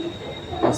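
A train at Masjid Bandar station in Mumbai, heard briefly as a steady rumbling rail noise with a faint high whine, swelling louder near the end as a car passes close.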